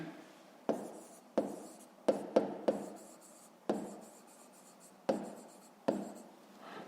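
Pen writing numbers for a fifth-grade math exercise, a series of about nine distinct scratchy strokes at uneven intervals, close and quiet with no talking.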